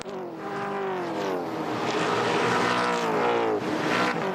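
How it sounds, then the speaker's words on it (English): V8 touring cars accelerate out of a hairpin at a race circuit, a loud sustained engine roar with rising pitch as several cars pass close by. "a couple of cars just stepping out of the hairpin"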